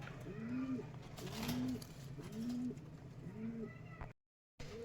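Pigeons for sale cooing close by, four repeated rounded coos at an even pace over a low background hum, with a brief cut to silence near the end.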